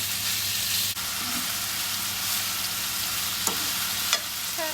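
Chicken pieces sizzling in olive oil in a pan, a steady bright crackling fry that runs throughout with a few small clicks of stirring or utensil contact.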